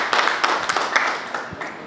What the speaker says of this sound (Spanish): los aplausos son para ustedes, no para mí